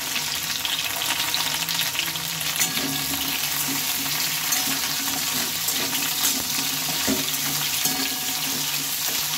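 Pumpkin pieces frying in a hot pan, a steady close hiss and crackle of sizzling that runs without pause, with occasional stirring clatter and no voices.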